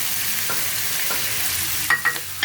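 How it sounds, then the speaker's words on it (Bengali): Bombay duck fish sizzles steadily in spiced oil in a pan, a loud continuous frying hiss, with a few brisk stirring scrapes near the end. "এখন এটা আমি ভালো করে নাড়াচাড়া করে নেবো। এখন এর মধ্যে আমি মাছটা দিয়ে দেবো"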